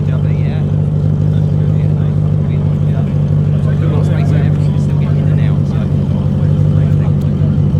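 A Ford Sierra XR4i fitted with a Cosmo front and BBS wheels rolls into a morning car meet, its steady engine rumble close and continuous, with people talking over it throughout.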